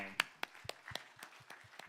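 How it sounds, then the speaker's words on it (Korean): A church congregation claps during a Lent Sunday worship service, a handful of spaced, soft hand claps at a steady pace, fairly faint and distant with a low murmur beneath. "박수해 주십시오."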